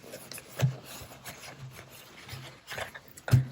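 A paper towel rubs over the body of a vintage Kodak Instamatic 414 camera being refurbished, giving soft, quiet wiping strokes with a few louder scuffs spaced across the stretch.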